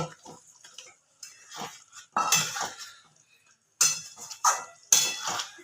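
Boiled eggs being placed into egg curry gravy in a pan, close clinks and scrapes of a spoon against metal in several separate bursts with short quiet gaps.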